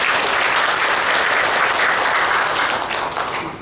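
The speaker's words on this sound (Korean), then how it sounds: "우리 세 분을 위해서 응원의 박수도 한번" A forum audience in a hall breaks into loud, continuous applause that holds steady, then thins out and fades near the end.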